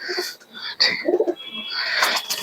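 Dobaj line pigeons in a loft cooing, a few close, throaty coos and rising calls in quick succession, loud and near with no talk.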